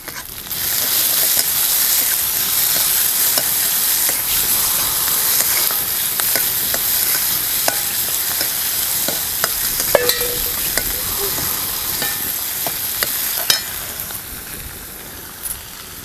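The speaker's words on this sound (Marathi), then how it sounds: "कांदा भाजत आलाय. आता लसूण पण घालूया. टमाटर टाकायचं." Onion, garlic and tomato sizzle steadily in a hot pan while a spoon stirs and scrapes, with occasional clinks against the pan and a continuous loud frying hiss.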